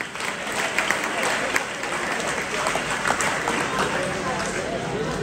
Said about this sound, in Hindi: तो इन 3 बच्चों के लिए एक बार जोरदार ताली बजाएंगे सभी।